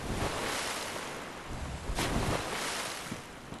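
Icy water in Dark Souls 3 washes and laps in a soft, steady surf-like hiss, faint and continuous, with a slight swell near the middle and no voices.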